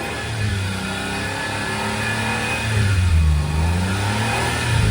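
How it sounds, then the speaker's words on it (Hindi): A used car's engine revs up and down steadily, a mid-pitched motor rumbling close by with a light press on the accelerator, checked for exhaust smoke. "हल्का सा एक्सीलेटर लेके चेक कर लेते हैं"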